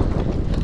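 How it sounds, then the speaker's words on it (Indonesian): Wind roars steadily over a kayak on open sea while fishing off Melaka, a dense, close buffeting rush across the microphone. "Tapi itulah angin. Angin tak apa-apa guys."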